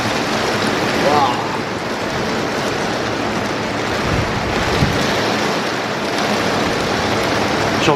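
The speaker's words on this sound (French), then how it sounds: "J'ai envie d'aller sous la pluie." Heavy rain pours on a hot summer day near a vegetable garden, a loud, dense, unbroken hiss and roar close to the microphone, with a brief voice murmuring under it.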